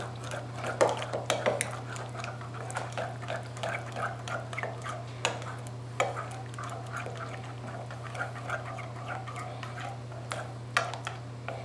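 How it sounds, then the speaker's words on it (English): A spoon stirs honey Dijon sauce in a bowl, making a string of light clinks and scrapes against the dish at an uneven rhythm, close and fairly quiet over a constant low hum. "And just give that a good stir."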